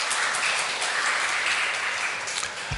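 A church congregation claps in encouragement for the women's choir after their hymn of praise. The applause stays dense and even for a few seconds, without speech.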